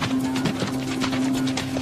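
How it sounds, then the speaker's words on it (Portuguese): Medieval travelling horses on the move, hooves clip-clopping in a quick, fairly close rhythm over a steady low hum, with no talk. "Estes são cavalos viajantes medievais."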